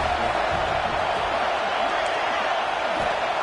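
Crowd noise in a football video game, a broad steady roar of cheering from a stadium full of fans behind the defense on a big third down. It holds at a constant level with no clear breaks.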